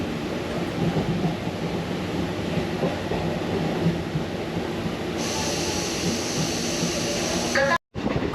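Steady low rumble of a moving local train toward Tarakeswar, heard from inside a near-empty carriage, with a brief dropout near the end and no talking.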